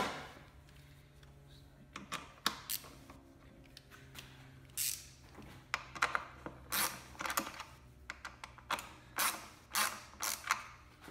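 Valve cover bolts being snugged down by hand tool on a 2008 Mazda 6 four-cylinder engine, a series of short close creaking, clicking ratchet bursts in uneven rhythm with brief pauses between them.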